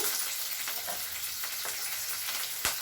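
Cumin, curry leaves, onions and green chillies fry in hot oil, a steady bright sizzle with occasional stirring scrapes and a sharp clatter near the end, no talk.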